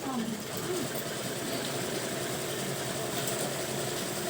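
A sewing machine stitching fabric in a women's tailoring class, a fast steady mechanical whirr and rattle running without pause close by, with a voice briefly audible near the start.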